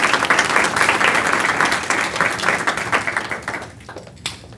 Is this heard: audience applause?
yes